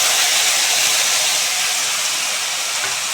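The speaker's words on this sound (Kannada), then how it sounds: "ಹಚ್ಚಿಟ್ಕೊಂಡಿರೋ ಟೊಮೆಟೊ ಹಾಕ್ಬಿಟ್ಟು ಚೆನ್ನಾಗಿ ಫ್ರೈ ಮಾಡ್ತೀವಿ" Chopped tomatoes sizzling in hot oil for rasam, a steady, close, even hiss of frying that holds without a break from start to finish.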